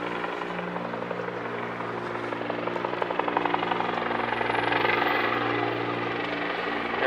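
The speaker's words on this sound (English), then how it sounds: "Helicopter in the air, that's the sound." A helicopter flying over Washington DC streets near the White House, a steady rhythmic rotor thump under a continuous engine drone that stays loud and even without fading.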